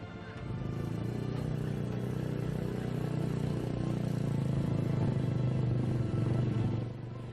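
Motorcycle loaded with sacks of gold ore heading home to a village in rural Pandeglang, Banten, a steady rumbling engine with rattling clatter that holds for several seconds before easing off.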